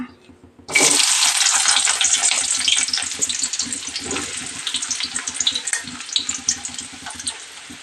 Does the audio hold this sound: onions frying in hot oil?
yes